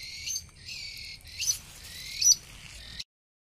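A lone bird calls over and over, bright chirping phrases repeated in quick bursts at close to moderate range over a quiet background, stopping abruptly.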